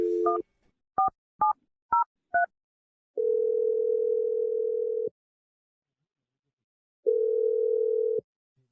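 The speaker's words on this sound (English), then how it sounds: "I'm going to dial her number right now." A telephone number is keyed in on a phone with five short DTMF beeps, then a long ringback tone, a pause and a second tone, loud, close and clean with no voice.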